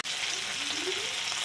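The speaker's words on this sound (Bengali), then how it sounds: "টমেটো দিয়ে ভালো করে ভেজে নেব।" Tomatoes frying in a pan with ginger and garlic for a chickpea curry: a steady, close hiss of sizzling oil with faint stirring, no voices.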